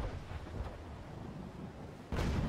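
Cannon fire from sailing warships in a naval video game, deep rumbling booms with a heavy low roll and a sharp loud blast near the end.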